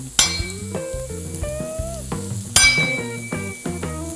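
Sausage links and eggs on a griddle with a metal spatula: sharp clinks and scrapes ring out over a soft sizzle, in irregular bursts close to the listener.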